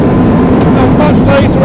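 Loud, close engine roar from a Ferrari 458 race car braking hard on track and dropping through the gears, a continuous dense rumble with rising and falling pitch under speech.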